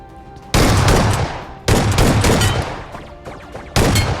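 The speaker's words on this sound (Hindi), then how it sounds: "और भाई बंदे के पास भी शॉटगन था जो मुझे काफ़ी डैमेज कर देता है यहाँ पे।" Shotgun gunfire in a battle royale mobile video game, three loud, booming blasts spaced about a second apart, each decaying slowly, with no talk.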